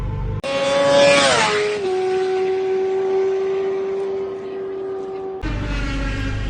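Race cars at Donington Park during a race, heard loud and close from on board: a high engine whine climbs and drops at a gear change, then holds a steady drone before a sudden shift in tone.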